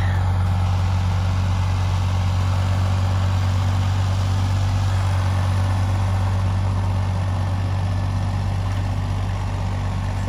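Small Ford tractor runs steadily close by, a loud, constant low engine drone with a strong hum and no change in pitch across ten seconds.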